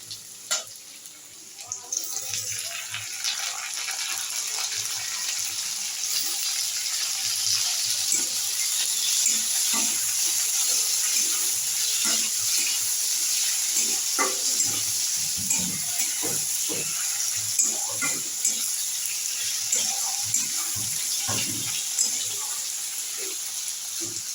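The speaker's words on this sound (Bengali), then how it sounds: "তো চলো একটু পেঁয়াজটা ভেজে নিই" Onions fry in hot oil in a pan, a steady loud hiss and sizzle lasting throughout, broken by crackles and occasional stirring scrapes, with little talking.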